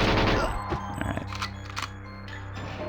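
Gunfire in the Xbox remaster of the video game GoldenEye 007: a string of sharp, loud shot transients and impacts over a steady low game hum, clustered across a few seconds with no voices.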